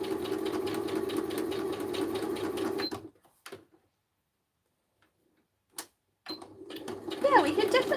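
A sewing machine stitches on a glass mat with rapid rhythmic ticking and a motor hum for about three seconds. It stops into near silence with a brief clack, then starts running again near the end.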